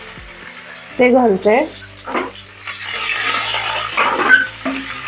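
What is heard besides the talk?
cumin and mustard seeds spluttering in hot oil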